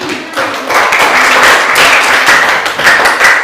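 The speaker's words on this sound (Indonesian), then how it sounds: "Tepuk tangan untuk kelompok 1" A classroom full of people clapping together, a dense, steady burst of applause close by with no one speaking.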